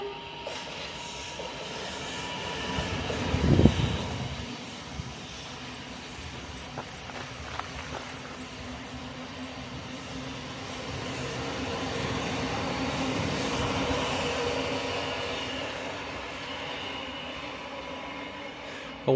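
A passenger train runs along the line with a steady rumble and rhythmic clatter of wheels over rail joints, heard from on board, with a louder thump early on and a swelling roar toward the middle.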